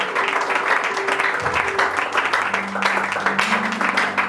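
A church congregation applauds in a dense, steady wash of clapping that fills the whole stretch, with sustained musical tones held underneath.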